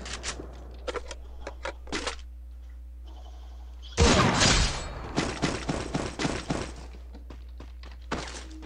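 Gunfire in a shooting video game, sharp staccato bursts of shots with a loud, dense volley in the middle, over a low steady hum and faint intermittent clicks.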